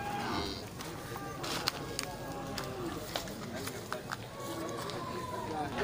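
Cattle at the Grogol livestock market, gathered in the open under bamboo trees, with occasional moos over a busy crowd murmur, footsteps and scattered knocks, while voices talk throughout.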